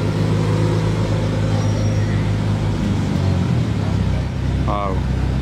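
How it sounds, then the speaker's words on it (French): New Porsche Cayenne Turbo GT with new headlights passing on a street, a steady loud engine and road roar held throughout amid busy traffic, with voices talking over it. "Ça c'est le nouveau Cayenne Turbo GT avec les nouveaux phares."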